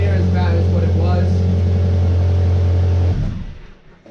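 A Saab 9-5's engine idles loudly and steadily with a deep rumbling, slightly raspy exhaust note from an exhaust leak, cutting off abruptly near the end and leaving a fading hum.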